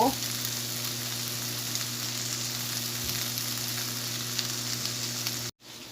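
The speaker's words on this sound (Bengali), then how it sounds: "জালটা রুই মাছ দিয়ে এখন আমি পটল দিয়ে আলু দিয়ে রান্না করব" Rohu fish cooking with pointed gourd and potato in a pan, giving a steady, close sizzling hiss that runs unbroken and then cuts out briefly at the end.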